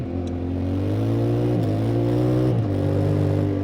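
A Yamaha Ténéré 700 motorcycle engine revs hard and holds high as the rear wheel spins up, with two brief dips in pitch as the revs stab and climb again, loud and close with no talk.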